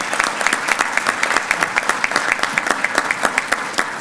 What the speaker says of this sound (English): And I want to give him a special round of applause